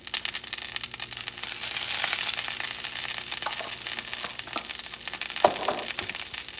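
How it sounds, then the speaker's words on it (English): Ghee sizzles in a preheated pan with a constant close frying hiss, a scrape or stir near the end, and no talking. "So I preheat this with a little bit of butter. I'm using ghee."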